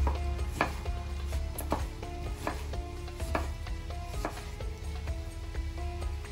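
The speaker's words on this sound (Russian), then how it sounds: "Давайте сразу же нарежем лимончик." Knife chopping a lemon into half-slices on a board, a steady series of close, regular knocks roughly every half second over a low kitchen hum and faint music.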